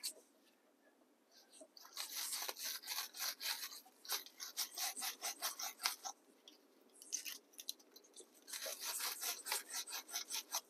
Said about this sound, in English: I'm going to take my terminal cleaner and just clean it up a little bit